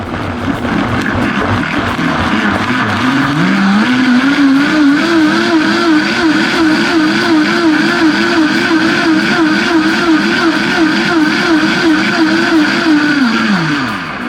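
A blender whirs a carrot and banana smoothie, starting at low speed and then ramping up to a loud, fast, wavering whine that holds steady before winding down near the end, close and alone.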